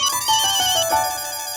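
A phone ringtone plays a bright electronic melody of repeating tones, loud and close, with no talking.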